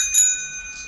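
A bicycle bell gives one short, bright metallic ring that lingers and fades within a second, heard alone and close by.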